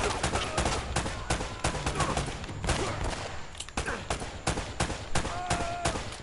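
Dense, continuous gunfire in Uncharted: Drake's Fortune, rapid loud bursts of shots overlapping one another for several seconds, close and heavy with no voices.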